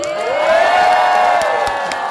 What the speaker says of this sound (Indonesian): Coba boleh tepuk tangan tim Lastri, mana tim Lastri